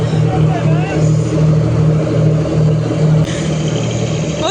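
A passenger launch boat draws near with a steady, droning mid-range engine hum that runs loud throughout, and voices speak over it.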